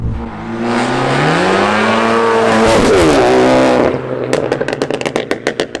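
A straight-piped, meth-injected 350bhp Ford Focus ST accelerating hard on boost, a loud close engine roar climbing steadily in pitch, then cutting to rapid popping and crackling bursts from the exhaust.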